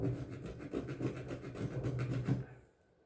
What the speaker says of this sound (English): Got a large calcium or carbon buildup there, so see if I can scrape some of it off real quick.